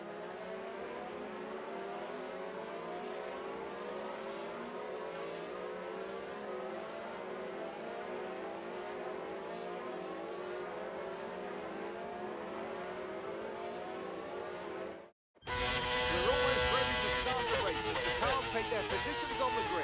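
Formula 1 cars in F1 22 roll around a wet Canadian circuit on a formation lap, their engines a steady, dense drone. Near the end the sound cuts out briefly, then returns louder and busier.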